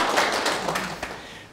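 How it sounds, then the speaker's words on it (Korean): Brief burst of applause from a company lecture audience at the Samjin Industry Jeonju plant, dense clapping that fades out over a second and a half. "우리 삼진 산업 무궁한 발전을 위해서 큰 박수 한번 부탁드리고 출발하겠습니다"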